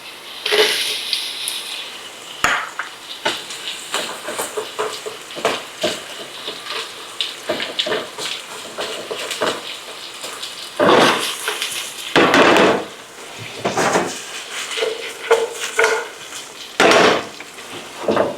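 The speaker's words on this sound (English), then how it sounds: "Now we're going to add in our onions." Onions going into hot ginger-infused oil, with irregular clattering knocks and scraping from stirring over a soft sizzle, some louder bursts of frying noise, fairly close and without talk.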